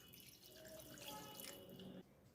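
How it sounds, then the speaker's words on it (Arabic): Water from a large half glass poured over seasoned chicken pieces in a clay pot, a steady splashing pour lasting about two seconds and then stopping abruptly. "هلا اخر شي بدي احط لهم نص كاسة كبيرة من المي"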